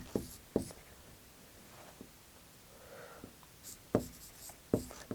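Chalk or marker strokes on a classroom board during a Hindi lesson, a few sharp taps and short scratches spaced apart, near and fairly faint in a quiet room.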